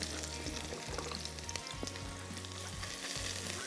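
Green chillies fry with garlic-ginger paste in a pan, a soft but constant sizzle and crackle heard up close, broken by occasional stirring scrapes.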